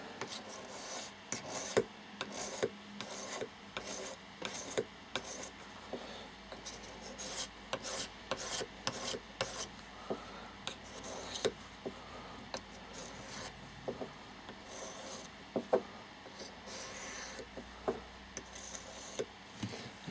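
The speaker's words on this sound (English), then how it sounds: "at this stage I'll start sharpening the knife" Knife being sharpened on a sharpening stone, with repeated rhythmic rasping strokes of steel across the stone, close and fairly quiet, with no talking.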